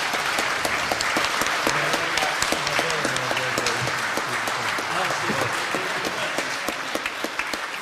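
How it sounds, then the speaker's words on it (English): Audience clapping for a panel at the close of a public talk, a dense continuous round of applause with a voice speaking underneath partway through. "So a round of applause for everybody on the panel."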